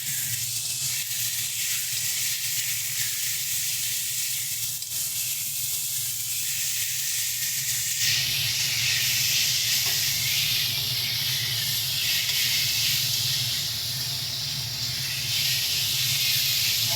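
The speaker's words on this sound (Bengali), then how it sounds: "দেখো মশলাটাকে আমরা খুব সুন্দরভাবে আলু আর মূলোটার সঙ্গে কষিয়ে নিয়েছি।" Ground dried chilli, turmeric and salt sizzle as they are sautéed with potato and radish in a pan, a continuous close frying hiss that brightens partway through, with no talk.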